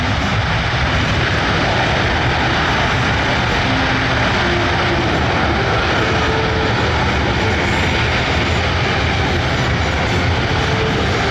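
A C-17 Globemaster III jet performs a very short landing at an air show, its engines giving a loud, steady, broadband roar that holds without a break and dominates the scene.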